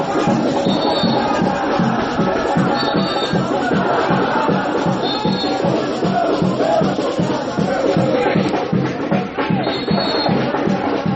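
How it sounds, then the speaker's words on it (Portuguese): Danúbio football supporters sing and cheer together at an amateur várzea match of the Copa Vida Loka, a loud, sustained crowd chant with a pulsing rhythmic beat and repeated whistle-like tones over the top. "Essa é a torcida do Danúbio fazendo festa"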